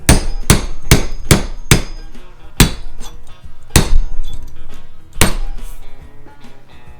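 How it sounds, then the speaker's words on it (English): Steel cab mounts on a snow tractor, made of 1/8 inch steel, struck with a small hammer. Loud, ringing metallic blows land close up in a quick burst of five, then come singly with a few pauses between them. "little pink hammers for you and me"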